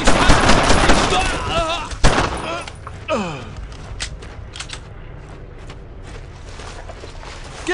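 Gunfire in Brothers in Arms: Earned in Blood, a WWII shooter set in France in 1944: loud rattling bursts at the start, a sharp shot, then sparser scattered shots and mechanical clatter with shouting voices.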